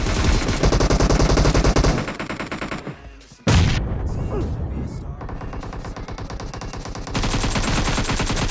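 Rapid automatic gunfire from the battle royale game PUBG played on a phone, dense bursts of shots that drop out briefly near the middle, then resume, loud and continuous.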